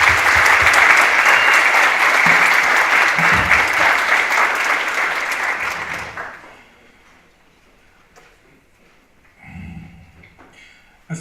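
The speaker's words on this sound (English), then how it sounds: "So, a round of applause for you guys." Audience applause in a lecture hall at a medical faculty event in Zagreb, loud and sustained for about six seconds before fading out, followed by quiet room noise and a few faint rustles.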